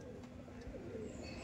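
Pigeons coo softly at a loft where racing pigeons are kept, low murmuring calls spread over a steady background hum, with no voices.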